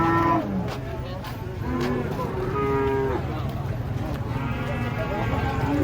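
Female Belgian Blue cattle being unloaded from a truck give repeated deep, drawn-out moos over a steady background din. The calls overlap and come from several animals, some close and some farther off, with people talking nearby.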